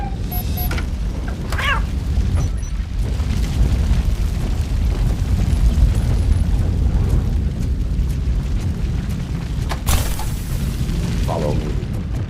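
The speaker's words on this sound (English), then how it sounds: "Fire is blocking the way." A fire blazes in RoboCop: Rogue City as a loud, continuous roaring rumble, punctuated by a few sharp bursts and crackles along the way.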